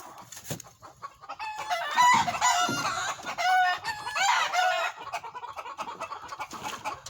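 Chickens cluck and squawk close by in a backyard compost area, a busy overlapping chorus of rising, agitated calls with a crow-like outburst midway, loud and near with no talk.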